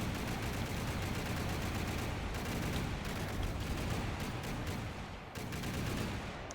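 Modded automatic guns in the From The Depths combat game fire without pause, a dense continuous roar of overlapping shots with a brief dip near the end.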